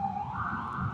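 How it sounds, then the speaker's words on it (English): Distant emergency siren drifting on a steady wailing tone, faint and continuous under room ambience, with no talking over it. "You can hear the sirens."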